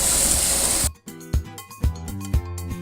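Onions hitting canola oil in a pan over low heat, a loud, dense hiss for about a second that cuts off abruptly, followed by plucked, rhythmic music notes.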